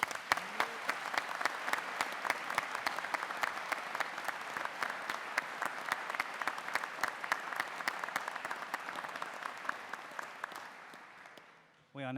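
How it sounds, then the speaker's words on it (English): A crowd at a graduation ceremony in Chelmsford applauds steadily for about ten seconds in a large hall, sustained even clapping that gradually tapers off before a voice begins. "So let's applaud them in the normal way."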